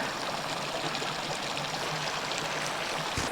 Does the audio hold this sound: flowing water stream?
yes